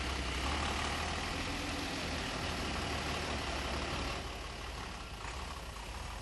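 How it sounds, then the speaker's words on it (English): Mercedes-Benz Unimog truck with its diesel engine running: a steady, deep idling rumble, close and continuous, with a slight drop in level toward the end and no voices. "The hearts of the Unimogs are their proven Mercedes-Benz diesel engines"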